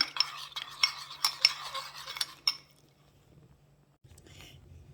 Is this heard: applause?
no